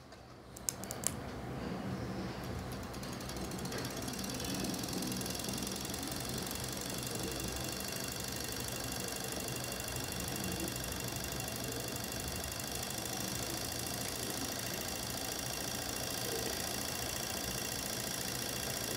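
A small DC motor powered by 12 volts starts with a few clicks, then settles into a steady, high-pitched whirring buzz that stays even and close for the rest of the clip.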